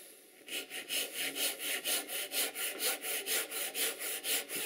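Hand saw with a heavy tooth cutting a kerf in pine for a candle box, a steady rhythmic rasp of about eighteen even back-and-forth strokes, close and clear with no talking.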